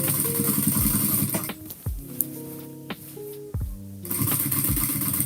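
Sewing machine stitching binding on a bulky quilt, short bursts of close mechanical whirring at the start and end with quieter handling, thumps and fabric shuffling in between.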